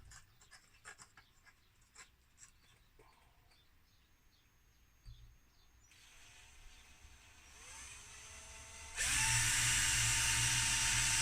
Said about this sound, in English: as regards drilling a hole into that.